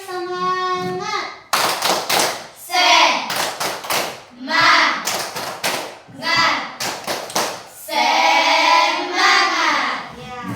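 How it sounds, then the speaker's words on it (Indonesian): A school class claps a rhythmic spirit cheer, with sharp patterned hand-clap bursts alternating with children's chanting voices, loud and close in a classroom. "kita berikan dulu tepuk tangan semangat"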